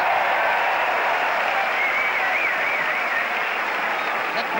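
A large stadium crowd roars and cheers steadily for the New Zealand side at a 1985 rugby league test match against Australia, a dense, continuous wall of noise that holds throughout without a break.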